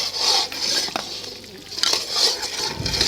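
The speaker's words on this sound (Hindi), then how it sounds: "सूजी को दोबारा से मिक्स करेंगे और फिर हलवे इसके अंदर मिक्स करना है" A spoon scrapes and rubs around a pan while semolina halwa made with jaggery is stirred, giving repeated rasping sweeps at a steady moderate pace with no talking.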